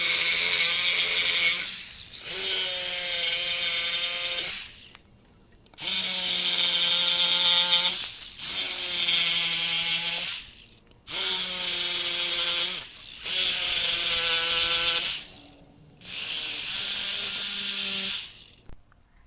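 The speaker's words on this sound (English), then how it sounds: "so I'm going to use a jigsaw." A jigsaw cuts through a composite stair stringer in six loud, close bursts of high, buzzing reciprocating whine, each lasting one to two seconds and separated by short pauses.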